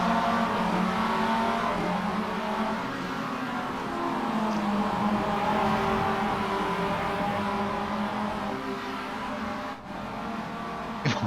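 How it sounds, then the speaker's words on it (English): Race cars pull out of the pits in a racing game, engines droning and revving steadily and loud, a continuous mechanical roar without speech. "as we've got cars leaving the pits now"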